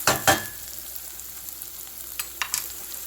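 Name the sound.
onions, shallots and sun-dried tomatoes sautéing in a pan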